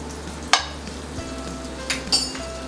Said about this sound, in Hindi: पैन थोड़ा गर्म हो जाने के बाद हम इसमें बटर डालेंगे।